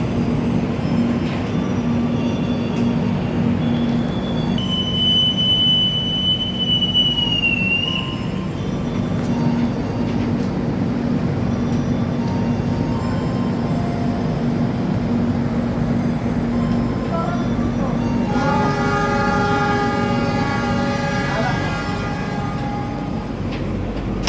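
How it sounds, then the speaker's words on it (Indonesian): The Sancaka passenger train runs on the Yogyakarta–Surabaya line, giving a steady low rumble of rolling wagons. Partway through, a long, high horn or whistle sounds, and later a cluster of squealing, ringing tones rises over the noise. "kereta api Sancaka nyusul kereta api Malioboro"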